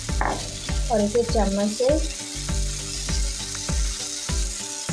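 Moong dal batter sizzles on a greased hot tawa with a steady frying crackle, while a spoon scrapes and taps rhythmically as it spreads; a voice speaks briefly near the start.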